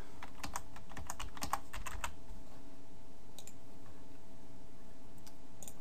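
Quick bursts of computer keyboard typing as an email address and password go in, crisp close clicks in clusters with short gaps, quiet room hum underneath and no talking.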